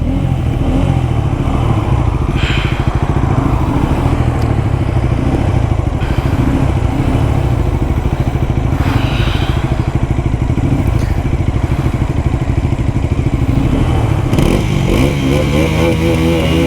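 A Pulsar N250 and an NS400Z motorcycle accelerate flat out in a drag race, their engines roaring loud and steady at close range for the whole stretch, with the pitch swelling as they rev, plus some clatter and no talk.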